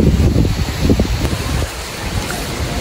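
Heavy rain that has gone on without stopping, falling steadily with strong wind gusts, heard as a constant dense patter close by, with bursts of wind noise early on and no talking.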